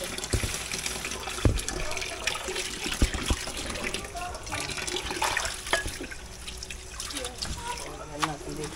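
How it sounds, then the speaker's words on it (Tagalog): Tap water running and splashing into a basin to soak vegetables for home cooking, a steady trickling wash close by with a few louder clatters, while a person talks over it. "lagyan natin ng tubig para nakababad lahat ng ating mga gulay pati."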